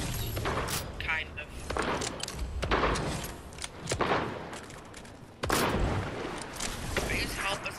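Gunfire in a trios battle royale match, sharp shots and bursts cracking out repeatedly at uneven intervals, with a loud blast near the end, under excited voices of several players talking over it.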